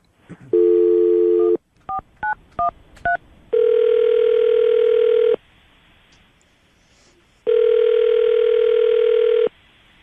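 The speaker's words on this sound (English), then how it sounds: "We're gonna call him right now and see if we can get him on the phone" A telephone call being placed: a long dial tone, then a quick run of touch-tone keypad beeps, followed by two long ringback tones separated by a pause, all loud and clear with no talking.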